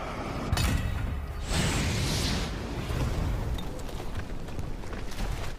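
A bomb explodes inside a cave on an island in a war film, giving a loud, sustained roaring rumble with sharp bursts and crackling debris that fills the whole stretch, with no talking.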